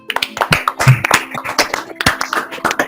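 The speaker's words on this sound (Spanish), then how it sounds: "nos merecemos un aplauso, saquen los micrófonos y que quede grabado un aplauso" Participants at a teacher workshop on pedagogical memory writing clap together, a lively, uneven burst of close hand claps with a faint hum underneath.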